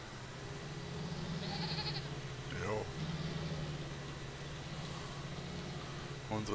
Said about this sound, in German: unsere Ziegen meckern, obwohl sie eigentlich alles haben.